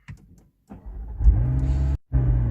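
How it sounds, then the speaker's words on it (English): A car engine cranks and starts, Sport Series or 720, with a brief starter whir, then catches into a loud idle, cuts out briefly and resumes steadily, heard up close without talk. "As you can see, car started, all good."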